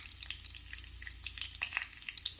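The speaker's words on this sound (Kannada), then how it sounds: "ಬಾಣಲೆಯಲ್ಲಿ ಎಣ್ಣೆ ಬಿಸಿ ಮಾಡಲಿಕ್ಕೆ ಇಟ್ಟು ಅದಕ್ಕೆ ಉದ್ದಿನಬೇಳೆ ಮತ್ತು ಹೆಸರುಬೇಳೆಯನ್ನು" Urad dal and moong dal fry in hot oil in a pan, giving a close, steady crackling sizzle with fine pops throughout, and no voices.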